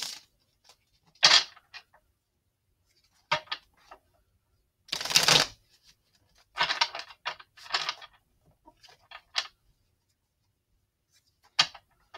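Mystic Moon Twin Flame Oracle cards are shuffled close up in quiet, intermittent bursts of papery rustling and soft clicks, separated by silent pauses.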